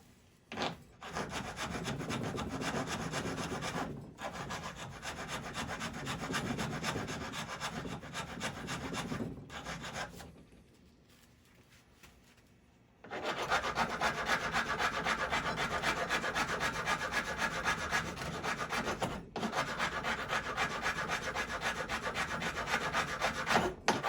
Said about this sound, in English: if you don't want to just continue using the rasp the whole time